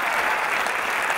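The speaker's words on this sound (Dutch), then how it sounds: "En een groot applaus voor de dansers van de Fontys Dansacademie natuurlijk" A theatre audience at a preview performance gives the dancers of Fontys Dance Academy a brief burst of dense, loud, even applause with no pauses.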